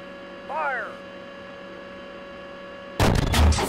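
Military weapon fire on command in a combat engagement, one loud broadband burst arriving abruptly near the end after a steady electronic hum and a brief rising radio-like warble.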